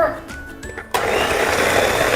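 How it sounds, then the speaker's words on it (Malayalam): Electric hand beater whipping egg whites with sugar for a birthday cake, a steady loud whirring drone that kicks in abruptly partway through and runs on continuously after a quieter stretch. "നമ്മൾ പഞ്ചസാര കുറേശ്ശെ ഇട്ട് അങ്ങ് ബീറ്റ് ചെയ്തെടുക്കണം"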